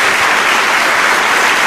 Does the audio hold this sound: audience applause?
yes